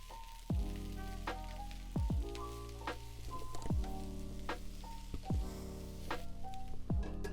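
Cubed sweet potato and kale sizzle in oil in a pan, a steady close crackle broken by repeated scraping stirs of a utensil at a relaxed, regular pace.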